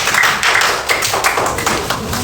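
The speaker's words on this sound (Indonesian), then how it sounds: "Mari tepuk tangan" Classroom applause for a student group: a loud, close patter of many hands clapping, uneven and continuous across the whole short stretch.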